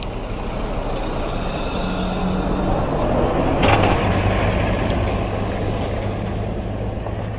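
Heavy traffic with passing buses at a busy Paris junction near the métro, a steady broad rumble of engines with one brief sharper burst midway, close and continuous.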